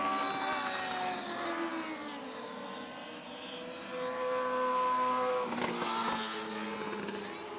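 Race cars roar around the oval at Big O Speedway during a green-flag stretch of a regular race program, with a dense, continuous wash of engines swelling and fading as the cars pass, and no talking.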